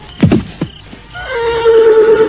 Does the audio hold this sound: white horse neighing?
yes